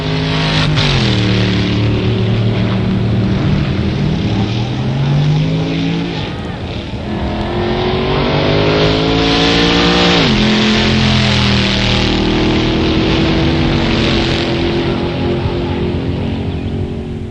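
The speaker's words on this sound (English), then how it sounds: "The first sounds are those of the stockers, the cars you and I drive on the street" Loud engines of stock street cars roar and rev continuously at a drag strip, pitch rising and falling as cars accelerate and shift, filling the whole stretch with dense mechanical noise.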